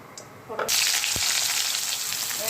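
Nigella seeds and a dried red chili dropped into hot oil, sizzling loudly and steadily from about half a second onward after a quieter start, with no voices.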